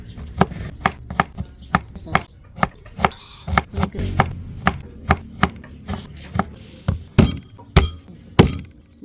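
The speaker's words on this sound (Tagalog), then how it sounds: "maghihiwa-hiwa na po tayo ng mga rekado" Knife chopping ginger and other ingredients on a board in a rural Filipino kitchen: steady, sharp, evenly spaced strikes close up, about two per second, with a faint clink now and then and no talking.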